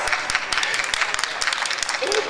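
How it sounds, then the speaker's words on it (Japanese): Crowd applause welcoming the winner of an A-class final at Omiya keirin velodrome, a short burst of scattered, uneven clapping with a voice speaking over it. "どうぞ盛大な拍手でお迎えください。"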